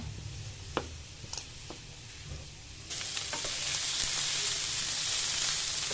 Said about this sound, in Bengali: পেঁয়াজ আর মাশরুমটা আমি একবারে ঢেলে দিলাম। এটা আমি 5-6 মিনিট মতো একটু ভেজে নিব।